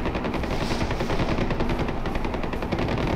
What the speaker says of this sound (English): There's shooting going on.